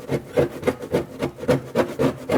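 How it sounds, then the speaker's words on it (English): A metal scraper rasps old, deteriorating foam hood pad off the underside of a Mercedes-Benz hood in steady back-and-forth strokes, about two per second, close and fairly loud with no talk. "Just use this end of the scraper like this."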